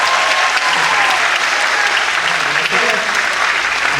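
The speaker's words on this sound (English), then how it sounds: "Let's give him a big round of applause." An audience applauds loudly and continuously at a circus show at Silver Dollar City in Branson, Missouri, a dense, sustained wash of clapping from a large crowd.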